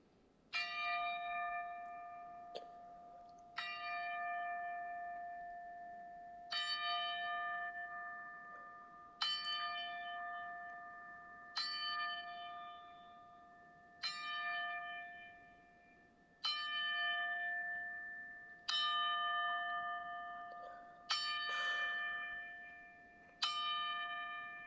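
A church bell tolls ten slow, evenly spaced strokes in tribute. Each strike rings out clearly and decays before the next, with no other sound around it.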